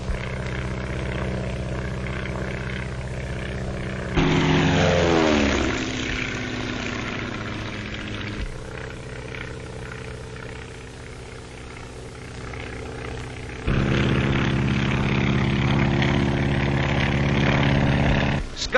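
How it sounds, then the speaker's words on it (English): 1935 skywriting propeller airplanes droning overhead, a steady engine roar that swells and shifts pitch as the planes turn and pass, louder in two stretches, with no talk heard. "the planes have to be strong, yet capable of a cruising speed of over 120 miles an hour"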